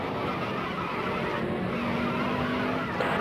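A race car spins out at Martinsville Speedway in NASCAR Dirt to Daytona, a loud steady engine drone with a thin tire skid squeal running through, close and continuous.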